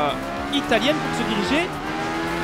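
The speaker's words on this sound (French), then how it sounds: "On retrouve le son du moteur Quattro qui est vraiment stylé" An Audi Quattro Group B rally car engine in Art of Rally revs and rises through gear changes, with tires squealing. French commentary runs over it.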